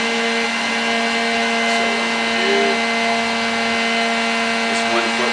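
Steady, loud whirring hum of a heat gun running continuously while warming a 1-inch PVC pipe for a horse bow, close and unbroken with faint background sounds.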